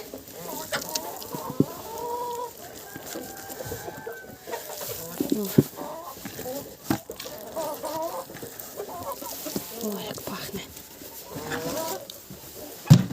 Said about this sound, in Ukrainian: Ох і бандітки ці кури.